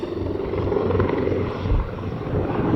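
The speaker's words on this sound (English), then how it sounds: "Another helicopter." A helicopter passes overhead on a hot day outdoors, its loud rotor thump and engine roar filling the air and swelling slightly as it nears, with no talking over it.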